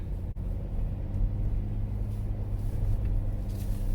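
A Chevrolet Impala cruises along a road on a shakedown test drive after new struts, heard from inside the cabin as a steady low rumble of engine and road noise, with one brief knock near the start.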